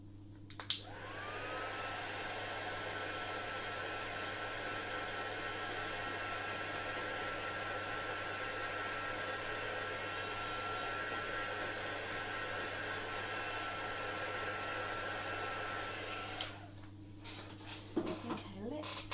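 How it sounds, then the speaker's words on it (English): A heat gun blows a steady, loud whirring roar for about fifteen seconds while drying alcohol ink on craft paper, then cuts off, leaving handling noises at the end. "I'll pop the heat gun on again, just to speed up the process."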